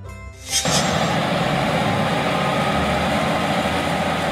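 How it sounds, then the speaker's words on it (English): Agricultural tractor engine starting up and then running at a steady, loud, continuous drone, close by with no talk. "Tractor, a powerful vehicle used in agriculture, often equipped with attachments for plowing and harvesting."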